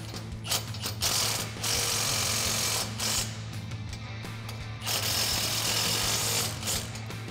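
A hand ratchet tightens 16 mm nuts on a Smittybilt adjustable tow bar fitted to a Jeep Wrangler, clicking rapidly and steadily up close in several long bursts with brief breaks.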